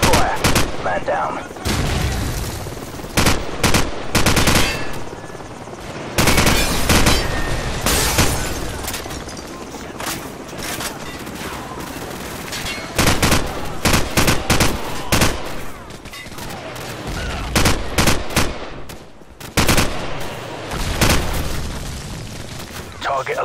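Dense gunfire from the PC game Call of Duty 4: Modern Warfare, with rapid rifle bursts and heavy booms packed close together for the whole stretch, loud and continuous, while game voices call out under the shooting.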